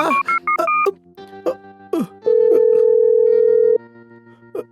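Phone keypad tones beep in a quick series, followed by a steady ringing tone held for about a second and a half. A voice speaks briefly between the tones.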